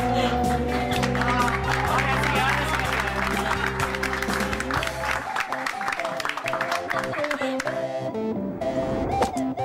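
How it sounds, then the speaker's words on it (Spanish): Applause from an audience at the end of a show: a dense patter of clapping mixed with crowd noise and music, fairly loud and continuous, tapering near the end. "Terminé el show y todos aplauden."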